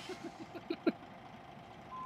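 A bus in the Euro Truck Simulator 2 video game sounds a few faint, evenly spaced reversing beeps over low engine rumble, with no voices.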